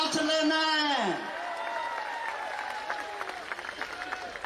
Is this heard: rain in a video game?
no